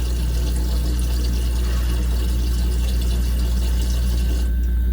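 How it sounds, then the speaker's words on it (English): Water flows steadily into an ice machine that has sat unused for a year, a constant trickling fill heard over the low, even hum of the running compressor. "We're just about there for the water fill."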